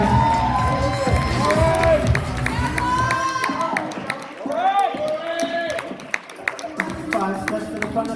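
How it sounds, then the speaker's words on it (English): Cheering and clapping rise from an audience at a New England fitness competition as masters competitors return to the stage, loud whoops and applause mixed with talk and music. "Give a round of applause, guys."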